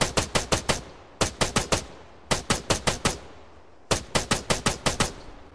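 Gunfire from the military shooter Arma 3 comes as four evenly spaced bursts of about five sharp, rapid shots each, loud and close, with short pauses between bursts and no talking.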